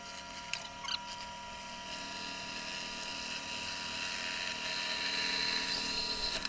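A power drill bores a hole through metal for a brake drum forge. The high, whining grind is continuous and close, growing gradually louder and rougher after a couple of short initial bursts.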